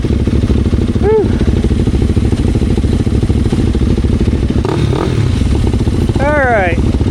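An enduro motorcycle idles loudly up close on a trail, its engine chugging steadily with clattering, while people talk over it and a couple of brief rising whistle-like tones cut through.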